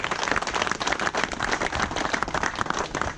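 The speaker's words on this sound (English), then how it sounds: "Give yourselves one last big round of applause for coming together to show our officers that they are loved." A crowd at an outdoor campground event honoring police officers gives a big round of applause, dense and continuous clapping that stays loud and steady from start to finish.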